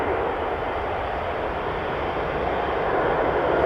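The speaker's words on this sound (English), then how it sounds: "there's another Embraer coming this way" An Embraer jet airliner in SkyTeam livery passes at Amsterdam Schiphol Airport, a continuous broad roar of jet engines holding steady and swelling slightly toward the end.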